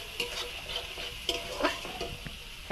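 Chopped tomato frying in hot oil with turmeric and green chillies for a koi fish curry, a steady close sizzle broken by scraping stirs of a spoon against the pan.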